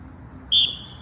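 A single sharp, high referee's whistle blast of about a quarter second at a sports competition, rising out of a low background murmur and then tailing off.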